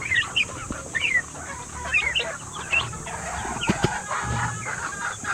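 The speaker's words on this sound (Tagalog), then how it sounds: "So ganito pala ako mag-alaga ng mga manok" Chickens on a small poultry farm cluck repeatedly in short bursts at close range over a low steady background hum, with occasional louder calls scattered across the whole stretch.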